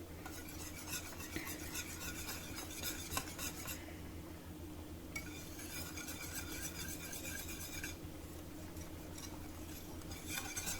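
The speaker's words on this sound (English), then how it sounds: "just keep whisking it in because you want that flour to not to lump" A whisk scrapes steadily around a pan as flour is worked into a heavy cream Alfredo sauce, giving a quiet, continuous rasping stir with brief pauses, under a low steady hum.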